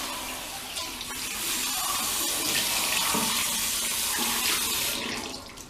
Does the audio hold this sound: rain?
no